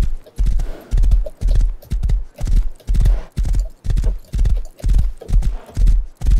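Rhythmic, heavy hoofbeats of a galloping video game horse pound steadily and loudly, evenly spaced strides repeating without pause.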